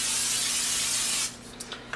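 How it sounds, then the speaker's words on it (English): Olive oil cooking spray hissing in one steady burst for just over a second while chicken is being prepared in a home kitchen, followed by a few faint clicks and light handling noises. "I'm just going to use the olive oil spray instead of oil"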